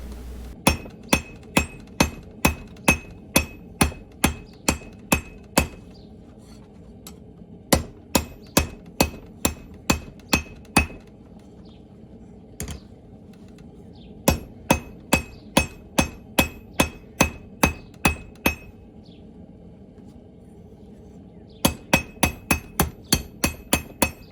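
A hand hammer strikes a hot steel workpiece on an anvil while forging a wall hook, ringing in steady runs of sharp metallic blows separated by short pauses, with no voices.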